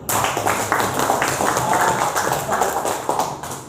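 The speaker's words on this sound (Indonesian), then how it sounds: "kasih aplaus buat dulu" A high school class claps for a student's answer during a shot put lesson, producing a brief, even burst of many hands clapping close by, with a faint voice underneath.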